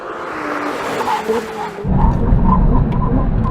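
Car accelerating hard during a brake test, an engine note rising through the revs before a deeper, louder surge of power and tyre noise takes over, heard close up.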